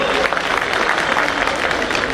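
Crowd clapping at an outdoor bar association gathering, a dense, continuous patter of many hands throughout, loud and close, with no talk over it.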